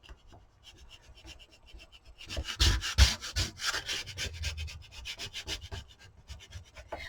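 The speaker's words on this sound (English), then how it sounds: "I'm going to go ahead and grab my little scraper and just scrape this" A small plastic scraper scrapes white paint off a fingernail up close, giving soft rubbing strokes that grow louder and denser midway, with no talking.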